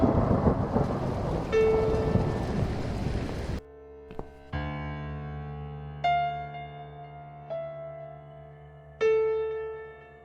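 A thunderstorm in the horror game The Cat Lady: a loud broadband roar of rain and thunder for the first few seconds, then it cuts to a sustained tonal drone with repeated swelling hits.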